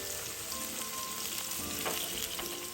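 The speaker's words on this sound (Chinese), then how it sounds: "中火油煎至两面微焦。" Tofu slices, about half an inch thick, pan-frying in oil in a flat pan over medium heat, giving a steady, close sizzle with soft crackles throughout and no talk.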